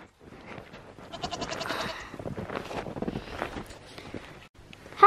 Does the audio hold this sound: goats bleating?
yes